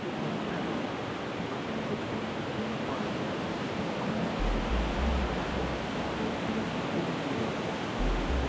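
Loud, steady rush of a strong underground river current in high water, a dense roar filling the cave without letup, with low rumbling swells near the end.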